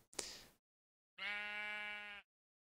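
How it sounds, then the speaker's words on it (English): Sheep in the block-building game Minecraft bleat loudly in a single sustained, nasal cry lasting about a second, preceded by a short rustling thump and then silence. "Sheep, you are being obnoxiously loud"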